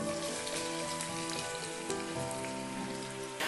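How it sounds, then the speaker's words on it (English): Chopped onions hitting hot oil and ghee make a loud, dense, continuous sizzle that holds steady throughout, with a faint hum beneath. "In this I will add the chopped onions"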